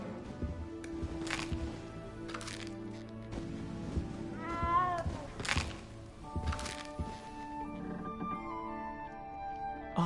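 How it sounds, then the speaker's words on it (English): Cat meowing in the video game Hogwarts Legacy, a short wavering meow heard amid game music and clunks, moderately loud within a busy mix. "You don't need to be frightened, little cat."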